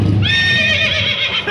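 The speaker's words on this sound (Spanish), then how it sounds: "¡El caballo relinchó!" A horse at a town plaza lets out a short, close whinny with a quavering, high, wavering tone, preceded by a brief low snort.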